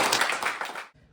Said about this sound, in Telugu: అందరు క్లాప్ చేయండి చిన్నుకి.